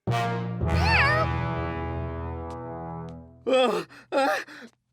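A cartoon cat gives a long, drawn-out wavering groan followed by two short, rising meows, up close and loud, with no other sounds around them.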